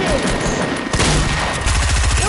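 Rapid gunfire in a shooter video game, loud dense bursts of shots and booms filling the whole clip with no pauses, close and harsh.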